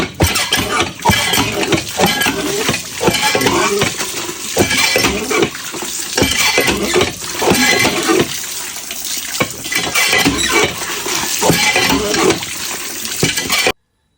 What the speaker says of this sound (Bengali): মাছটি ধুয়ে লই।